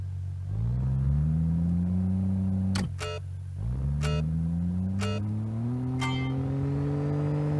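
A turbocharged six-cylinder car in BeamNG.drive launches hard and pulls through the gears, its engine drone climbing steadily with several sharp shift cracks breaking in at intervals, loud and continuous with no voices.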